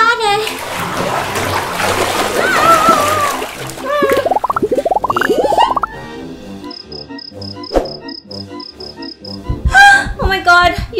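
Water splashing in a bathtub as a toddler plays at bath time, choppy splashes and sloshing under an adult's chatter and a voice, with a run of high squeaky sounds partway through.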